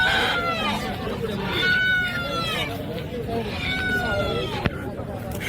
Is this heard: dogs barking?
no